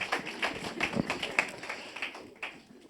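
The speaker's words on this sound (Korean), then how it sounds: "우리 목사님 나오셔서 말씀 전하실 때 큰 박수로" A small church congregation claps to welcome the pastor at a Sunday service, a modest, uneven patter of hands heard from a short distance that tapers off within a few seconds.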